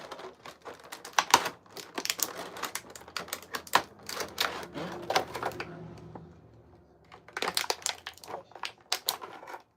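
Cutting open plastic packaging around a WWE Elite wrestling action figure, a run of close, irregular clicks, snips and crinkles with a short quiet gap before another burst.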